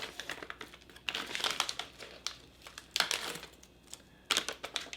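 Crinkly plastic pouches from a Dutch 24-hour combat ration are opened and handled up close: dense, loud crackling and rustling bursts that come in uneven waves, with no voices.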